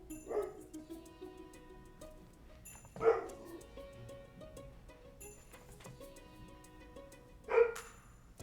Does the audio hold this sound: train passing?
no